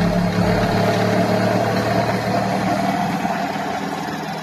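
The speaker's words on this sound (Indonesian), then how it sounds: "Kita putar, kita putar sampai generator ini berputar." A small generator on a Honda PGM-FI fuel injection training simulator spins with a loud, steady, close mechanical hum and vibration. It holds an even drone, easing off slightly toward the end.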